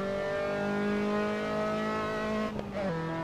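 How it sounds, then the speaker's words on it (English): An Austin Healey Sprite's engine at Bathurst in Assetto Corsa drones steadily at high revs, close and loud, then dips briefly as the gear changes and settles at a lower pitch. "here we go for a lap around Bathurst. In the Austin Healey Sprite."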